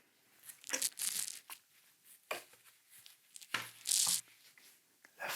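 Tape being torn and pulled off packaging while unboxing a camera, several close, loud ripping and crinkling bursts in an irregular rhythm, with no talk over them.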